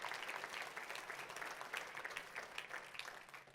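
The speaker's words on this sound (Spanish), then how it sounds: "Dele un aplauso al Rey de la Gloria conmigo." A church congregation applauds during a sermon, a continuous spread of many hands clapping that sounds distant and quiet overall, holding steady for several seconds before easing slightly, with no talk over it.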